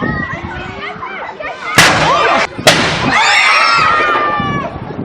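Two loud cannon blasts from the traditional time gun fired at Edinburgh Castle, ringing out amid a busy crowd of talking onlookers, each boom sharp and followed by a lingering echo.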